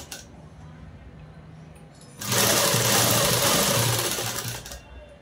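A sewing machine stitches the sleeves of a lehenga-style long frock, a close, loud, steady whirring run of about two and a half seconds after quiet handling sounds, then stopping.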